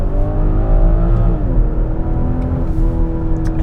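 A 2022 BMW X5 40i SUV with a ZF automatic gearbox accelerates hard, its engine note climbing steadily and dropping briefly at a gear change midway before rising again, loud and close, with no voices.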